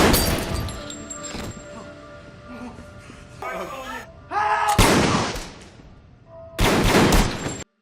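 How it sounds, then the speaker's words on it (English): Bursts of gunfire come in loud, sharp clusters separated by quieter stretches with a voice and tonal background sounds, the final volley cutting off abruptly. "No, that's gunfire."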